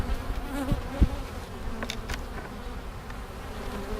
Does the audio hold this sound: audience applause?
no